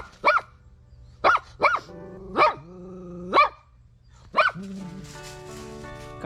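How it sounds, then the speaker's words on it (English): A garden guard dog barks outdoors in a series of five or six sharp, fairly close barks with pauses between them, some drawn out into whiny yelps, followed by a softer tonal whine. "Garden guardian dog on duty."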